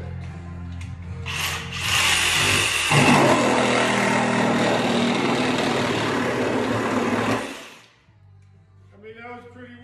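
A Flex reciprocating saw is pushed hard into a cut, giving a loud, harsh buzzing roar for about six seconds before it stops. A voice speaks briefly at the end.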